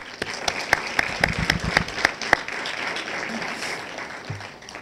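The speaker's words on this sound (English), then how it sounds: "Let's give that some applause" Audience applause at a university poetry festival on a rainy day, starting with a few sharp, distinct claps that swell into a steady patter of clapping hands and then fade gradually over several seconds.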